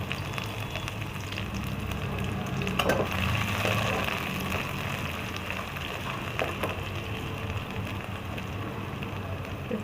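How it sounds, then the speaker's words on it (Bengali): Chopped onion with black cumin (kalo jeera) frying in a pan for a Bengali bora curry, giving a steady, moderately quiet sizzle across the whole stretch with no talking. "এবারে ফোড়নে একটু কালো জিরে দিলাম, এই কুচানো পেঁয়াজটাও দিয়ে দিচ্ছি"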